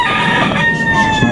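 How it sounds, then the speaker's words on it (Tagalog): Chickens in a small backyard coop, with a loud close rooster crow carrying a clear sustained tone over clucking and faint farmyard noise. "Ating munting manukan"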